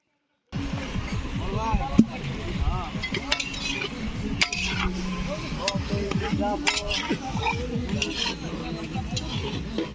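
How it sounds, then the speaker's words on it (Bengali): Chicken braised in a large pot at an outdoor picnic, stirred with a metal ladle that clinks and scrapes repeatedly against the pot over a low sizzle, while people talk nearby throughout. "চিকেনটা কষা চলছে"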